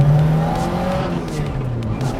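A Toyota AE86 with a solid rear axle and limited-slip differential pulls away, its engine a steady, close drone, with faint voices mixed underneath.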